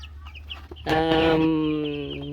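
Young chicks and chickens on a farm eating feed, with soft scattered peeps and clucks followed by a loud, sustained close-up fowl call that holds for over a second and then tapers off.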